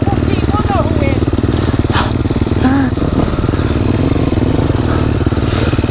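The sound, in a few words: motorcycle at full throttle on supercross track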